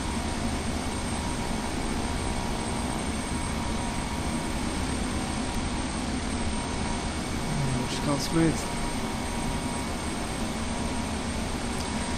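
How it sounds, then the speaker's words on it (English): Jet airliner engines in Flight Simulator X drone steadily and loudly throughout on approach to the runway, a constant broadband roar with a thin tonal whine, while someone talks briefly over it. "These engine sounds, they sound really, really menacing for some reason"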